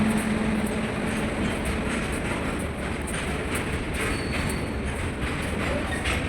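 Train running on rails during a journey in India, giving a loud, steady rumble with faint rhythmic clatter throughout, heard from on board without any talk.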